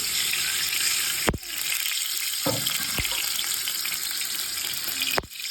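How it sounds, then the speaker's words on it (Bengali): Mustard oil is poured into a wok to cook prawns: a steady, close hiss and sizzle runs throughout, broken by a few sharp clicks and knocks of utensils against the pan. "এখানে আমি কড়াই বসিয়ে দিচ্ছি, দিলাম আমি সর্ষার তেল"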